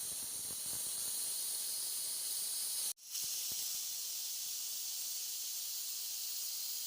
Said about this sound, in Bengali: কুকারের গ্যাসটা বের করে নিয়েছি